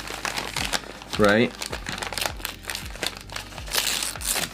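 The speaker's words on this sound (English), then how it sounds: "I am gonna gently unwrap this" Plastic packaging crinkles and crumples as a kukri knife is carefully unwrapped from its package, with a louder burst of crinkling partway through and a person talking over the handling noise.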